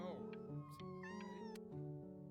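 A cat meows in the narrative video game Before Your Eyes, a clear, drawn-out call heard close over a steady musical backing with tonal game audio around it.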